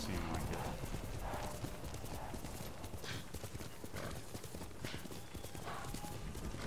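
Horse hooves clip-clop in a quick steady rhythm in Ghost of Tsushima, moderately quiet and continuous over gameplay ambience, with speech faintly present underneath.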